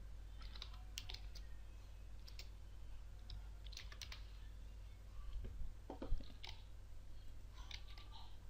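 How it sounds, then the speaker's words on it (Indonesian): Keys on a computer keyboard are tapped in quick, uneven bursts while entering text in CorelDRAW. The clicks are soft and close over a steady low background hum, with a few louder taps near the end. "Kita tinggal mengetikkan nama yang kita inginkan."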